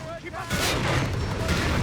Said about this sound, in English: they get hit with both high explosive and smoke grenades